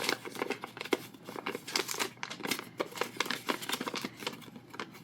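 Origami paper being opened up after a series of folds into a box shape: close, dry crinkling and crackling in quick irregular bursts, with no voices.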